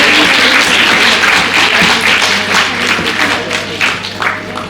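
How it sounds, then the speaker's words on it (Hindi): Loud, steady applause from an audience at an International Women's Day event held by a union at NDMC, honoring Mrs. Indira, dense clapping filling the whole stretch and tapering slightly near the end. "एक बार जोरदार तालियां श्रीमती इंदिरा मैम के लिए"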